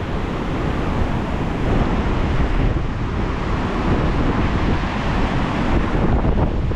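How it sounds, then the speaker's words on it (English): Strong wind roars against the microphone over the steady wash of Lake Superior waves breaking nearby, loud and unbroken throughout. "Boy, the lake is really kicking up some waves today."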